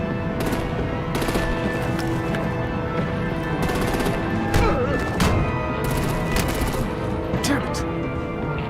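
Artillery opens up in Batman: The Enemy Within, a rapid stream of loud repeated gunshots with sharp heavier cracks punctuating it, over a constant droning din, with voices talking amid the shooting.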